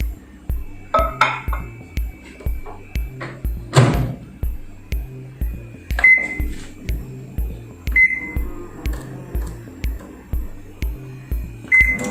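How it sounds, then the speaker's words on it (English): A steady microwave oven hum, heating water in a cup, with a regular pulsing rhythm runs throughout, broken by a few clinks and short high beeps near the middle and end. "Boil this water in microwave for 30 seconds."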